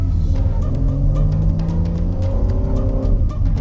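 BMW M3 G80 Competition xDrive pulling away in four-wheel-drive mode, a loud steady engine drone with rising tones heard from inside or close to the car, over rapid faint ticking, with no speech.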